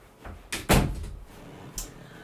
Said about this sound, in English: I didn't shut my door